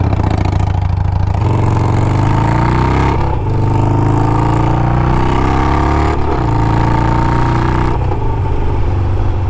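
A Harley-Davidson Sportster 48 motorcycle being ridden, its loud, close engine droning continuously with a couple of rising revs and gear shifts and no talking.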